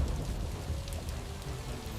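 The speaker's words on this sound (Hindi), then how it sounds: "बारिश तेज होने लगी," Heavy rain pours down during a storm with dark clouds and lightning. It makes a dense, steady hiss that stays even throughout, with no voices.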